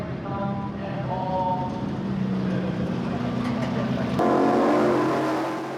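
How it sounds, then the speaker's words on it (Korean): Race cars in an adult qualifying heat tear away from the start in Western Australia, a loud sustained roar that climbs in pitch and surges sharply louder near the end. "출발 신호 직후 굉음을 내며 달리는 자동차 소리가 청소년부와는 확실히 다르다."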